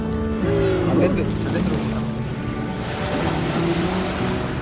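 Cold sea waves wash onto the shore at Busan in a continuous, fairly loud surf with wind rumble, while voices talk nearby.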